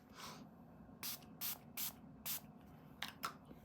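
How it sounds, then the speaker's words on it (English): Makeup setting spray mists from a bottle in about six short, close hissing bursts, with quiet pauses and faint background hum between them. "the last step is just some setting spray to make sure that that makeup lasts"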